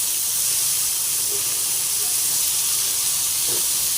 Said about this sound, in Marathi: मोठ्या गॅसवरच बोंबील फ्राय करायची तरच बोंबील कुरकुरीत फ्राय होतात